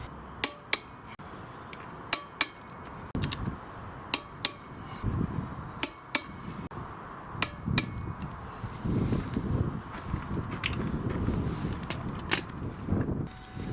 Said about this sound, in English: Then it was time to torque them up